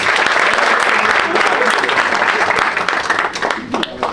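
Continuous applause fills a talk venue as an audience claps loudly and densely throughout, with a slight thinning near the end.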